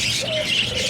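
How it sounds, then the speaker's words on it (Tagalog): Pet pigeons coo softly in their enclosure, a short murmuring coo with faint chirps close by, and no one speaking. "kalahati ng ibon na nilipat ko"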